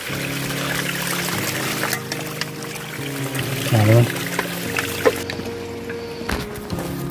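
Spring water pours and trickles steadily at a small chapel built into a rock on a mountain, a soft continuous flow beneath a low hum and background sounds.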